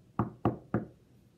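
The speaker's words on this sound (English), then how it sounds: "I go to Levi's house and knock on his door" Three evenly spaced knocks on a house door, each a solid, close thud with a short decay, followed by quiet.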